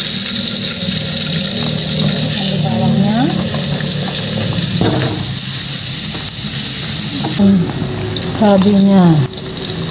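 Long bean pepper fried rice sizzling and frying in a pan, a steady loud hiss with stirring scrapes throughout, while someone talks over it.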